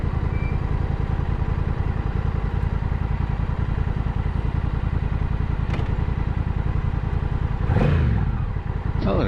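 Honda Rebel 1100T motorcycle, a 2025 model, riding with a steady mid-pitched engine drone, close and continuous, with a brief swell and clatter near the end.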